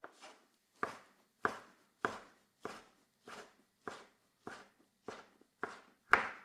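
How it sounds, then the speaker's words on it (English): A knife slices prosciutto (cooked ham) into strips on a board: about eleven crisp, evenly spaced chops close up, with quiet gaps between them and no voices. "now I'm cutting the prosciutto into strips."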